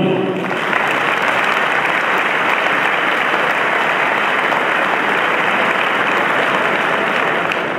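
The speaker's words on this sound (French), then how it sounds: "On peut les applaudir." Dense, sustained audience applause at a Red Holstein cattle championship show at Expo Bulle 2012, loud and steady throughout with no voices over it.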